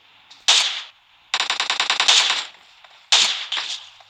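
SLR marksman rifle fire in the PUBG video game: three loud bursts of rapid shots, the middle one longest, each with a sharp crack and brief tail, separated by short silences.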